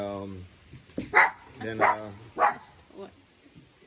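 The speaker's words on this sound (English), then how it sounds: "gotta excuse the dogs" Dogs barking several times at roughly regular intervals, near and moderately loud, under and between someone speaking.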